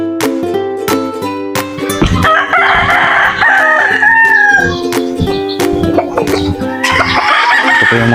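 Native chickens and roosters in a coop crow loudly and repeatedly, with overlapping crows and clucking close by.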